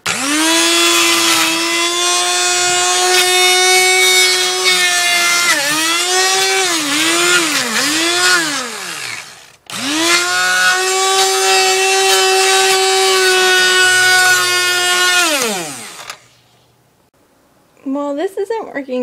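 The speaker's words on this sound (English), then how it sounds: "this is kind of a handheld food processor" A handheld electric food processor chops cucumber and celery, its loud motor whine running in two long bursts and repeatedly dipping and recovering in pitch as the blades bog down, then stopping.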